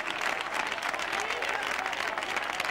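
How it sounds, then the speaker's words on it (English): Crowd applauding ballroom dance couples at the 2003 European Standard Championship in Spain, a dense, steady wash of clapping from a large audience that holds at an even level throughout. "many of the crowd on their feet, applauding the couples here"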